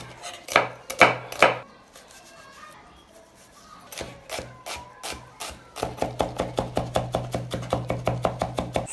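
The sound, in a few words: chopping two onions finely with a knife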